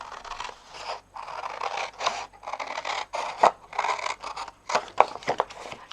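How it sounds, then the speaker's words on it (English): Scissors snip through a card base for a paper craft, a close series of crisp, irregular cutting strokes with short pauses between bursts and no talking. "I'm going to take my scissors and I'm going to do some cutting."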